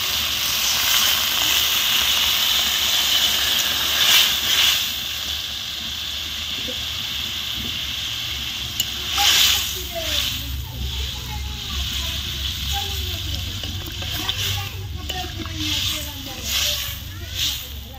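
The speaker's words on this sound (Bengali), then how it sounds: "ভালো করে নেড়ে নিয়েছি, এবার জল দিয়ে দেবো।" Water goes into a hot pan of frying lata fish curry with fresh okra, setting off a loud, continuous sizzling hiss that swells and settles while someone talks over it.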